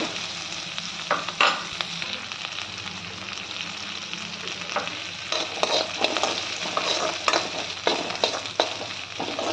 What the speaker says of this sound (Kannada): ಸ್ವಲ್ಪ ಇದು ಫ್ರೈ ಆಗಲಿ ಎಲ್ಲ. ಕರ್ಬೇವಿನ ಸೊಪ್ಪು ಹಾಕೋಣ.